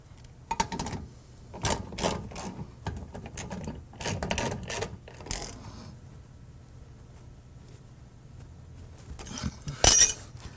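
Bolts are tightened on a 1970-1981 Camaro rear leaf spring with a hand tool, giving bursts of close metallic ratcheting clicks that then pause, followed by a sharp clink near the end; no one talks.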